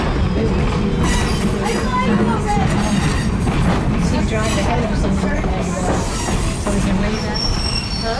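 South Simcoe Railway diesel excursion train rolling along track near Beeton and Tottenham, Ontario, with a steady loud rumble, rhythmic clatter of wheels over rail joints and intermittent metallic squeals, continuous for the whole stretch.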